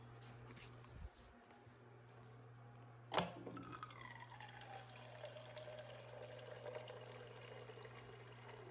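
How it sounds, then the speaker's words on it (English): Water poured into the tank of an Opal countertop ice machine during a citric acid descaling, a steady splash and trickle starting after a brief knock, heard up close over a constant low hum. "what I like to do is just go ahead and add some water to the machine"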